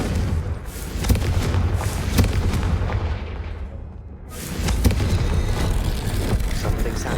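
A Confringo blasting spell explodes in Hogwarts Legacy, a loud, dense boom with a rumbling roar that fades and then swells again into a second burst. There is no talking.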